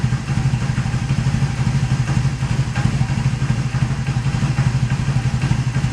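A cold Kawasaki KZ750 twin motorcycle engine idles loud and close with a steady, slightly uneven throb and mechanical clatter, and no voices over it.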